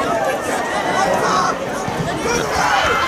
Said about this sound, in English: And the Comet crowd getting excited here tonight.